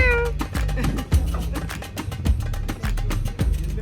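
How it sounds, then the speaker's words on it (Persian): A grey cat meows once, high and clear, over a busy rhythmic backdrop with steady thumping beats throughout. "قبلش من بهتون میخوام گربه مورد علاقم رو نشون بدم. من خیلی گربه توسی دوست دارم."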